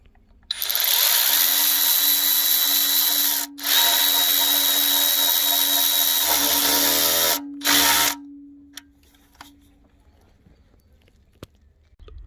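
A power tool bolts up the sump on a Citroen Berlingo 1.9 in a loud whirring run lasting several seconds, broken by a short pause and a final brief burst, then quiet with faint clinks.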